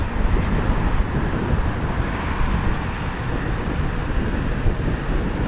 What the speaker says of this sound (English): when you engage the second wheel, the second motor in the Dualtron, it just lights out